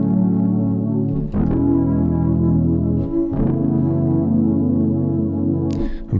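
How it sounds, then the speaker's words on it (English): A warm, sustained pad from the ANA 2 synth's Faded patch swells in layered chords, steady and smooth with soft shifts every couple of seconds, playing alone in an ambient R&B style. "using this nice pad sound called Faded"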